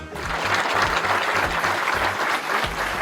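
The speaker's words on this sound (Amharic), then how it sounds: "ሞቅ ባለ ጭብጨባ" Warm, sustained applause from an audience as an honorary gift is presented at a Meskel holiday celebration, dense steady clapping with faint crowd noise and a low rhythmic thump underneath.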